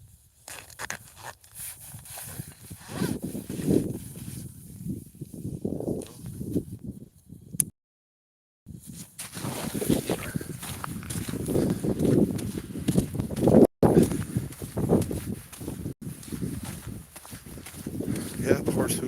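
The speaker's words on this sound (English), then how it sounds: "the horse hooves" Horse hooves clip-clop outdoors in a steady, uneven walking rhythm, close by, mixed with rustling and scuffing, with no clear talking.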